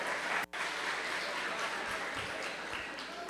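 Steady applause from a conference audience at a neurology and neurosurgery congress, dense and continuous clapping with a brief dropout near the start.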